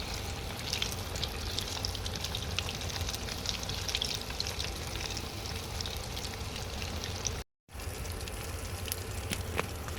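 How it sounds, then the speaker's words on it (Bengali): Chicken pieces deep-frying in hot oil for a spicy naga chilli dish, a steady dense crackling sizzle throughout with occasional sharper pops and a brief dropout near the end. "সবগুলো চিকেনে তেলে ভেজে নিতেছি।"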